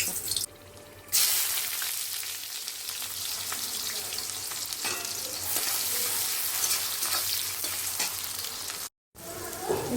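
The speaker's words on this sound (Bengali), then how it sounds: "একটু ফোড়নে দিয়ে দিচ্ছি একটা দারচিনি, একটা তেজপাতা আর একটু লঙ্কা।" Cinnamon stick, bay leaf and chili crackle and sizzle steadily in hot white oil in a pan, a continuous close frying hiss with a brief quieter start and a short dropout near the end.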